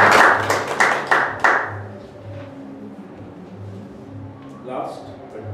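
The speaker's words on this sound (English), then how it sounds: "Round of applause to them." An audience at a Toastmasters meeting claps in a short burst of applause lasting about a second and a half, then it fades as a voice starts talking.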